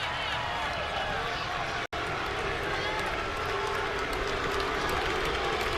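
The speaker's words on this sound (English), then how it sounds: "Crowd chanting Luke." Baseball crowd at a Yankees–Rays game chanting the name of pitcher Luke Weaver, a steady roar of many voices filling the ballpark without pause apart from one momentary dropout.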